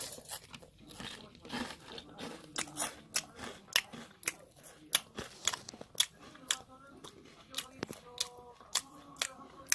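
Close, crisp crunching bites and chewing of a crunchy garlic baguette repeat in an irregular rhythm, each bite a sharp crackle against a quiet background.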